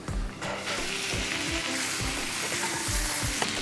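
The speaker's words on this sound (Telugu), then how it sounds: "ఇదిగోండి బాగా ఫ్రై అయిపోయింది" Potato and capsicum fry in a pan with a loud, continuous close sizzle. Repeated scraping stirs of a spatula run through it.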